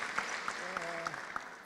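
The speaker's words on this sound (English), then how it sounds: "I believe you can hear the clap." Scattered hand claps from a small audience at an academic research day session, a handful of separate claps spaced through the moment, faint and thin against room tone.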